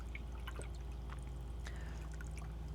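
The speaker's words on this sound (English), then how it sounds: "rinse my brush here." Watercolor paintbrush swished and rinsed in a container of water, giving faint, soft trickling and dribbling sounds over a steady low hum.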